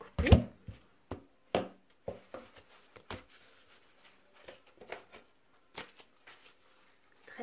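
Oracle cards being cut and handled during a tarot-style reading, a run of short dry riffling snaps and card taps in uneven bursts, close and fairly quiet, with no talk over them.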